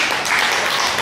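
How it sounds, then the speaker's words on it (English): Audience clapping at a county fair show in Ford County, a steady wash of applause lasting about a second with no gaps. "Give Tamara a big round of applause"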